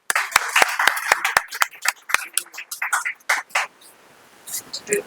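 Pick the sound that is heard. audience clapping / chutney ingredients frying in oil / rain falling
audience clapping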